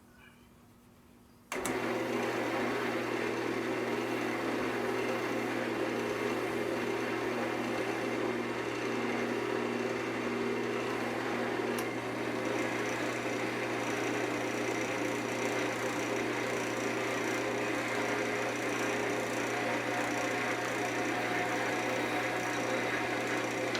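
After a quiet start, a wood lathe switches on and hums steadily with a dense whirring, grinding texture as a locust wood pot is polished with abrasive paste, continuing unchanged to the end.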